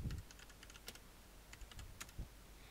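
A computer keyboard is typed on at close range, faint irregular clicks and taps in short bursts with a few heavier key thumps, no voices.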